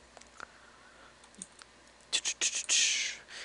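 Computer clicks while playing a game, sparse faint taps at first and then a quick run of louder, close clicks near the end.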